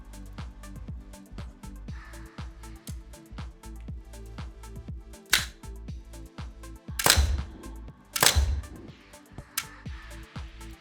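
A training simulator pistol firing in a virtual demonstration room, a few sharp bursts over a low rhythmic mechanical ticking and hum, ending in a faint click.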